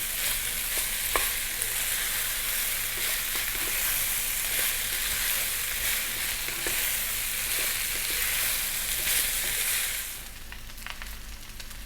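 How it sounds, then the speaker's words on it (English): Rice fries and sizzles steadily in a hot pan for budget fried rice, a dense continuous crackle with occasional stir clicks, loud and close, fading slightly near the end, with no talking. "Frying rice, fried rice."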